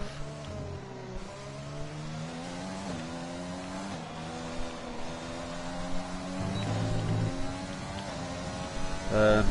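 Formula 1 car engine in the racing video game F1 2020, a sustained high-pitched engine whine rising and falling through gear changes, growing louder toward the end, with someone talking over it.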